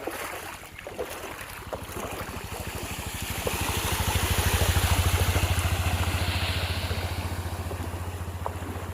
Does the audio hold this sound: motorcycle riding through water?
yes